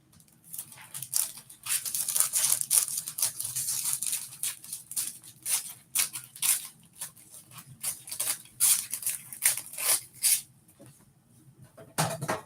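Scissors snip through a foam pool noodle in a craft setting, a series of close, crisp cutting crunches in irregular bursts with short pauses between them.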